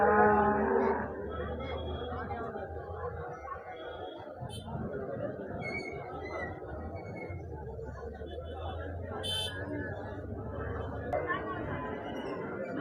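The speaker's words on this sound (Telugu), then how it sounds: "ఇక్కడ చెట్ల కింద ఆవులు ఉంటాయండి" Outdoor crowd noise at the weekly cow market in Husnabad, with cows kept under trees, a cow mooing at the start and people chattering throughout.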